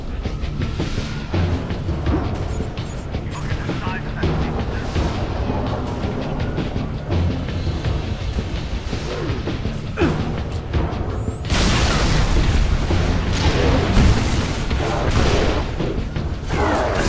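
Rocket launcher explosions in Halo: heavy booms and mechanical clatter over constant game noise, with a big blast swelling into a louder rumbling stretch in the second half.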